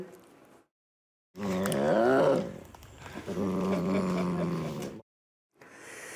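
Siberian tiger cubs at Ljubljana zoo let out loud, close growling and roaring cries in two long bursts, separated by brief silent gaps.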